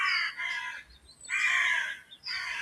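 Rooks, crows and jackdaws calling near a church tower in rural Aberdeenshire, Scotland, several harsh overlapping caws in bursts with short gaps, moderately close and clear over faint background.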